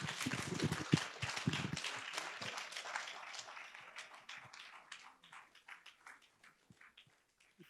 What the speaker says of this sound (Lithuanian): pasveikinkim Dalią su jos 70-mečių garsiais plojimais